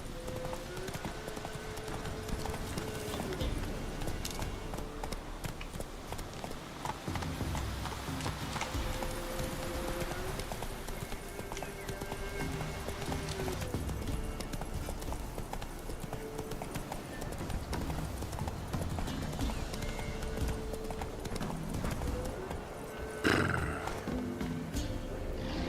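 In The Witcher 3: Wild Hunt, the horse Roach gallops in a fast, unbroken run of hoofbeats that holds steady throughout, mixed with game sounds and a faint music bed, with a brief louder thump near the end.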